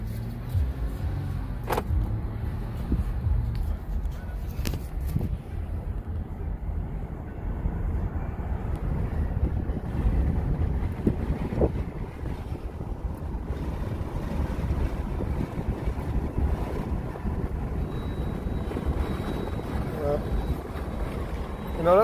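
A 2020 Jeep Gladiator rolls along with its top down, giving a loud, continuous rush of wind buffeting over a low engine and road rumble, with brief speech at moments.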